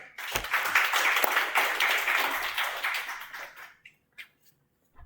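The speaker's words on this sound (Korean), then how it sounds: "여러분 큰 박수로 맞이해 주시기 바랍니다" An audience at a lecture in Daegu gives a welcoming round of applause, a dense crowd of clapping that holds for about three and a half seconds, then fades to scattered claps and a brief final clap before silence.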